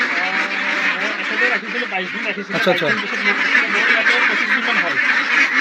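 White and coloured Pekin ducks, a large breed, quack and honk in a raucous, continuous flock chorus close by, while a person talks briefly over them.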